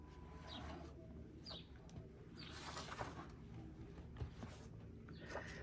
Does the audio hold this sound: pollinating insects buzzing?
no